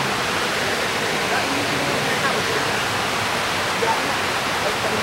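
River current flowing steadily, a dense continuous broadband rush like a close waterfall or stream, loud and unbroken throughout with no clear voices.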